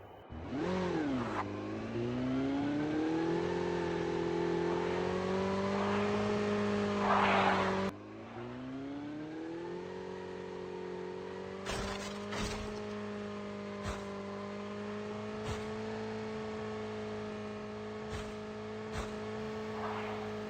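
A motorbike engine revs in a Call of Duty video game. It makes a loud, steady droning roar that climbs in pitch early on, then breaks and continues with a few sharp clicks and knocks.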